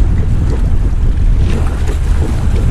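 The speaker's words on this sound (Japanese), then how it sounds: "波の音が心地いいね" Ocean waves and surf on a shore during a shore-jigging fishing trip, a steady loud wash of breaking water with wind rumble, no voices.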